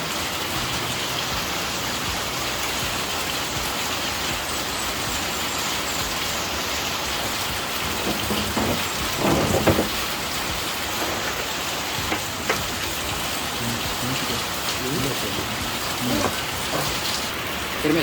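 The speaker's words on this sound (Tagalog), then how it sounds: "Habang malakas yung ulan" Heavy rain pours steadily and loudly for the whole stretch, a dense unbroken wash of drops with occasional louder splashes near the middle.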